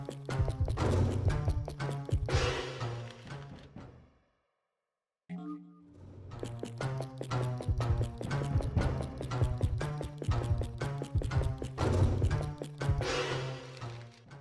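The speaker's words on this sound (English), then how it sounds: "We're being followed by the woodcutters, the axemen. You can kind of hear their footsteps." Heavy, rhythmic footsteps of axemen following in the Illbleed video game thud steadily, loud and close, drop into a brief silence, then resume at a plodding pace.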